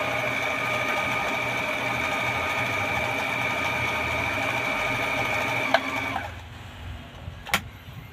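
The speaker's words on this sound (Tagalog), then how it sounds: "Kita nyo po kung gaano kaganda yung tahi ng machine natin." A foot-pedal-operated Brother sewing machine stitching with a steady, rapid mechanical whir for about six seconds, then stopping with a click and a faint clunk.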